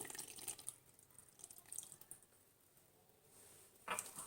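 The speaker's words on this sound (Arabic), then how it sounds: "دي مية عادية خالص من الحنفية. هضيف كده المية" Plain tap water running and splashing from a faucet into a bowl of all-purpose flour and salt for pizza dough, a faint steady trickle with a few brighter splashes near the start and end.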